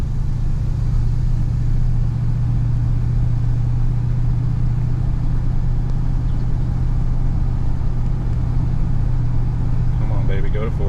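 Chevrolet Silverado or GMC Sierra truck fitted with a swapped 4L80e automatic transmission, accelerating steadily with a loud, continuous low engine drone from inside the cab, climbing through the gears while someone talks over it.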